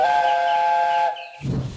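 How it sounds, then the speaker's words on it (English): A guard's whistle at a train station gives a loud, steady, high blast for about a second, then cuts off, followed by a low hiss. "the guard blew his whistle"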